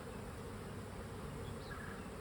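Honey bees hum in a steady, dense drone around an open hive during an inspection, a faint but continuous buzz with no talk.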